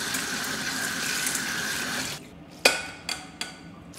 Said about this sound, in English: and wash the black beans in water